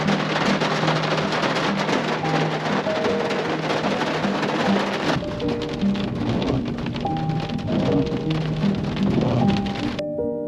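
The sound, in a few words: cold rain falling in a forest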